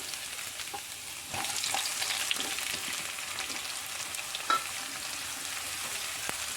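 Ginger, garlic and onion fry in oil for a Kerala-style vegetable kurma, a steady hissing sizzle with occasional light scrapes and taps of stirring, close and moderately quiet.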